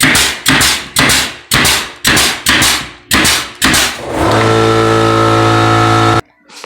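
A brad nailer fastens build-up strips for a laminate kitchen countertop, firing about eight sharp, loud pops in an even rhythm, then a steady mechanical hum that cuts off abruptly.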